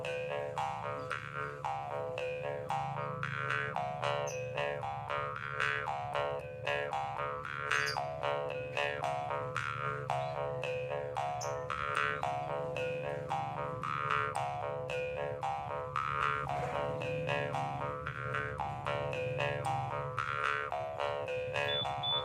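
A karinding bamboo jaw harp plays the Tutunggulan pattern, a steady, looping twangy buzz with rhythmic plucked pulses repeating evenly at close range without pause.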